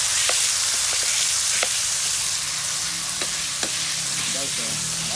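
Tomatoes dropped into a hot pan for Ilocano dinengdeng sizzle steadily and loudly, with scattered scrapes and clicks of stirring throughout.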